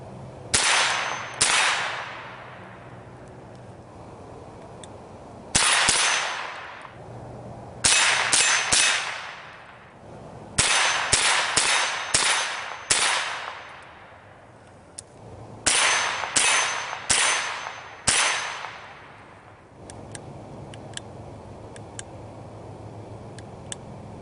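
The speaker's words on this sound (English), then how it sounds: "So now we're going to do a little night shooting." Gunfire during night shooting with a Jetbeam III M military-series flashlight mounted on the gun: about twenty sharp, loud reports with ringing decay, fired singly and in quick bursts of two to four across the stretch, no talk.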